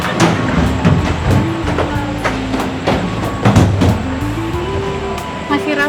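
A KRL commuter train rolls through Jakarta, heard from inside the carriage as a steady rumble with rhythmic wheel clicks and rising and falling motor whine, fairly close, while people talk softly.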